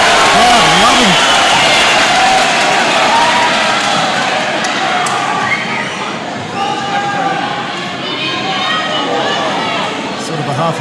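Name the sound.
crowd cheering at MMA fight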